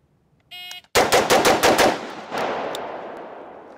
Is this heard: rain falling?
no